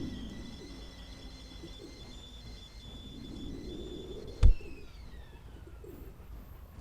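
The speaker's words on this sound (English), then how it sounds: "We got a nice little pigeon." A pigeon coos softly in the Second Life virtual world, low murmuring calls against faint ambient tones, broken by one sharp click midway.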